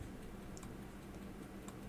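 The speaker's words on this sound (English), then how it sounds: "See, now it's clicking," A faint, quick series of small clicks from the mechanism of an Elgin convertible watch being wound, very close over a steady low background hum, with no talking.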